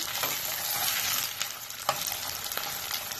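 A large onion in half a cup of hot oil fries with a loud, continuous sizzle, with intermittent stirring scrapes and clicks of a utensil against the pan.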